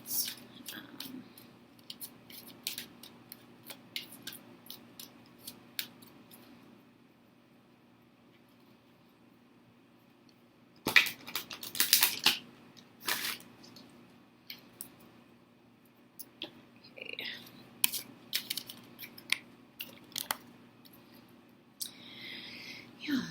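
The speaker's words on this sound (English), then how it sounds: "shuffle these cards" Tarot cards are shuffled by hand, soft papery riffles and flicks in intermittent bursts, with a louder cluster of crisp shuffling midway and quieter rustles around it, close and isolated.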